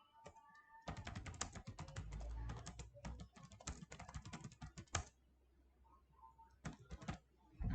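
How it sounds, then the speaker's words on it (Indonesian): Rapid keystrokes on a computer keyboard fill a close, quiet room in dense bursts for several seconds, then pause and resume in a short final flurry. "Nih tinggal diketik di sini."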